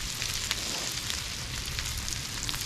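Bacon for a jalapeño popper grilled cheese sandwich sizzles on a grill, a loud, continuous crackling hiss with small pops and no talking.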